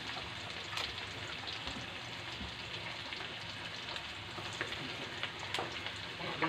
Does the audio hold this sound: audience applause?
no